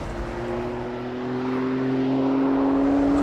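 Jaguar XJ220 supercar driven hard on a track in fourth gear, its engine droning steadily and rising in pitch as it accelerates, loud and close with wind and road noise and no talking.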